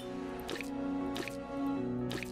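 Liquid drips onto blotting paper in The Testament of Sherlock Holmes video game, three distinct wet drops falling at roughly even spacing over a soft musical background hum, each a short squishy plip.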